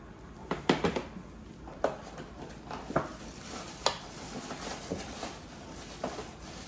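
A spoon, slightly bent, mixes pot pie dough for an Instant Pot chicken pot pie, giving close, irregular scraping knocks and soft thuds spaced a second or so apart against quiet background hiss.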